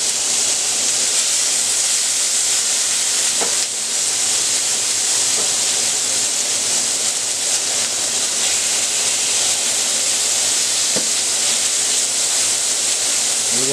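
A burger patty with olives and cheese sizzles steadily on a hot griddle while being flipped and pressed, a constant loud hissing fry with a couple of faint clicks and no talk.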